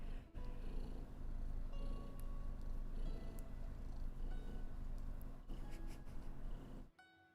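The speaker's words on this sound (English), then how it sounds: "So that's what purring sounds like" A cat purrs steadily up close for several seconds, a continuous low rumble with small rustles, cutting off abruptly near the end.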